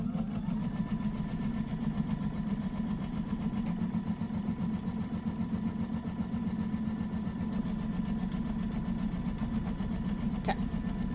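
Sewing machine running steadily as it stitches quilt fabric for a watermelon block, a continuous close mechanical hum with a fast even needle rhythm throughout, no talking.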